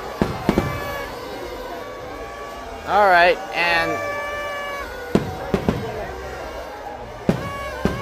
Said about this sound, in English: this is the fireworks